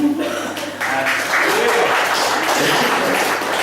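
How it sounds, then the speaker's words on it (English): A comedy-show audience breaks into loud, sustained applause that swells after a brief dip and carries on densely, with some voices and cheering mixed in. "a very cheap way of getting applause there"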